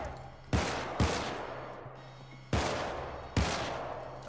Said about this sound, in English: I love how the wall-piercing gun doesn't pierce walls.